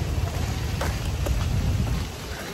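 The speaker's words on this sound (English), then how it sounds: "still, drops are falling from sky, drizzling" Light rain patters steadily and close, a dense soft hiss of drops with occasional louder taps, no voices; monsoon drizzle at Osmania University in Hyderabad.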